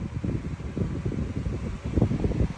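An electric fan runs close by with a steady, fluttering whoosh of moving air throughout, with a pet parrot nearby.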